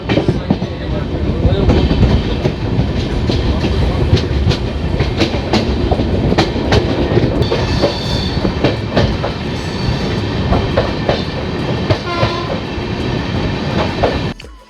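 Malda-Bangalore Amrit Bharat Express train running on rails past a station, a loud continuous rumble with rhythmic clickety-clack of wheels, steady throughout with a faint voice at times.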